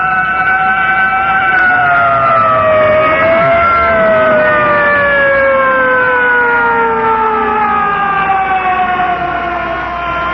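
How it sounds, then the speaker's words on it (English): A loud 1951 Evanston Fire Department fire engine siren wails continuously, its pitch sliding slowly downward over the steady rumble of the moving truck. "The siren shrieks, "Clear the way, here come the firefighters.""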